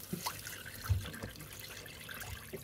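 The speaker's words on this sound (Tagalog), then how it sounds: "Let's add water on this part." Water poured into a pot for pot-au-feu gives a faint trickling splash with a few soft drips and clinks, quiet and brief.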